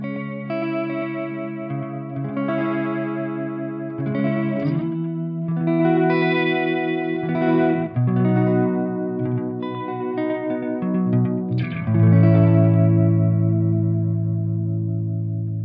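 A Fender Modern Player Deluxe Strat electric guitar played through an Electro-Harmonix Deluxe Memory Man XO analog delay pedal, clean picked notes and chords trailing into soft repeating echoes with a chorus shimmer, moderately quiet and alone.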